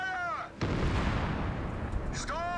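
A tank gun firing in the video game Company of Heroes 3, one heavy booming blast followed by a long rumbling roar that fades slowly, with brief voices speaking just before and after.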